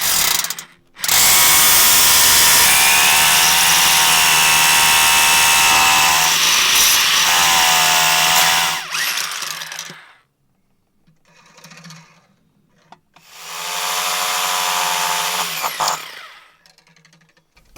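Hammer drill boring pilot holes into concrete for anchors, with a long loud close-up drilling run of about eight seconds, a brief quieter gap, then a second shorter burst, and no talking.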